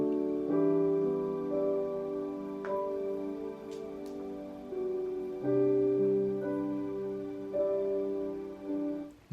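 Soft, sustained synth pad chords in the background of a song, smooth held harmonic tones that change every couple of seconds, mellow and steady at moderate loudness with no voices.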